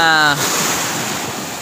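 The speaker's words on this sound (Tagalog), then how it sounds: "Ang sarap ng alon." Broadband rushing surf at a beach in stormy monsoon weather fills the clip after a brief tonal hum at the start, with steady wind noise on the microphone.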